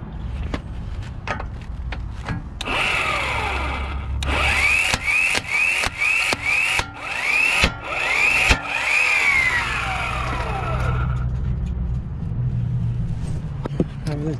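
An Mplus cordless impact wrench tightens a car wheel nut, a whirring motor spin-up followed by a close burst of rapid rattling hammer impacts that taper off as the motor winds down.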